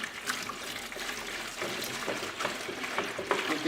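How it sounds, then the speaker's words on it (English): Steady splashing of water pouring into a container, continuous and fairly close, with no voices. "So we add the water to the bucket."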